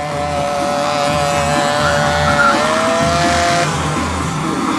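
A stunt motorcycle in a streetfighter show in Szombathely roars loudly and steadily while its tires squeal on the asphalt, with high whining tones over a dense engine rumble.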